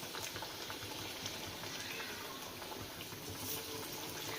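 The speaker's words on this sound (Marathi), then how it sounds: "आता आपलं तेल तापलेलं आहे आणि आता आपण हे सगळं तळून घेणार आहोत" Battered ridge gourd pakoras deep frying in hot oil, a dense, even bubbling hiss that runs steadily without a break, heard fairly faint and close with no talking.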